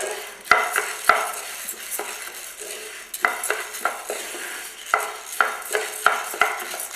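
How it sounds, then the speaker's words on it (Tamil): Chana dal and urad dal dry-roast in a pan for idli podi, with a spoon scraping and stirring in irregular taps and swishes over a faint sizzle. "உளுந்து நல்லா வறுபட்டு நல்லா வாசம் வர வரைக்கும் கருக விடாமல் சிம்லியே போட்டுட்டு வறுக்கணும்"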